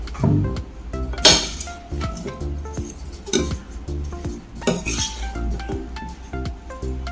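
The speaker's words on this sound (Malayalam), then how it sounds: "ആവശ്യത്തിന് ഉപ്പ് ഒരു ടീസ്പൂൺ കുരുമുളക് പൊടി ഒരു അര ചെറുനാരങ്ങ നീര് എന്നിട്ട് നമുക്കിത് നല്ലപോലെ ഒന്ന് മിക്സ് ചെയ്യാം" Zucchini salad tossed with salt, pepper powder and lemon juice: a utensil knocks and clinks against a bowl in irregular bursts, with sharp ringing taps and softer scraping between them, close by and with no talk.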